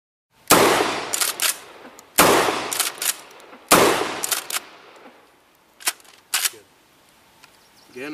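Shotgun blasts from a KSG pump-action shotgun at a range, three loud sharp reports spaced about 1.5 seconds apart, each followed by pump-action clacks and rattles, then quieter handling clicks.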